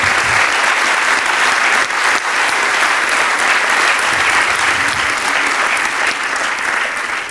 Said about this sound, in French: J'aimerais qu'on vous applaudisse bien fort pour vos témoignages.